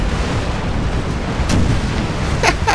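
Naval battle video game with cannon fire and exploding ships: a low, constant rumble broken by a sharp blast at mid-point and a pair of quick, loud bursts near the end.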